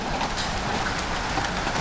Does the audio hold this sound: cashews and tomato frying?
no